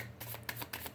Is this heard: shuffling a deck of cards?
yes